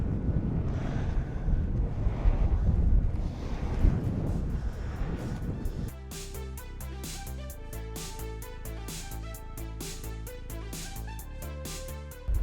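Strong wind buffets the microphone outdoors on a trip to the sea, with a heavy roaring rumble at first, then a steadier whoosh under faint rhythmic tones.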